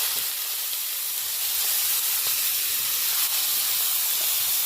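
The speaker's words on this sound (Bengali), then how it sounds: "গরম হয়ে গেছে, এবার কেটে রাখা সবজিগুলো দিয়ে দেওয়া হচ্ছে।" Chopped vegetables hit a hot pan for chowmein and set off a loud, steady, hissing sizzle that carries without a break, close up with no voices.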